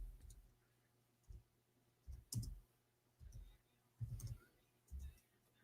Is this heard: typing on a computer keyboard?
yes